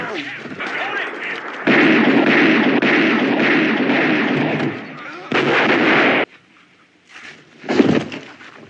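Police gunfire from the 1982 film Silent Rage, a loud burst of sustained shots followed by a brief pause, then another short burst near the end.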